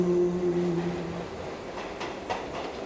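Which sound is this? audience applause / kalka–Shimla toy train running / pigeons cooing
kalka–Shimla toy train running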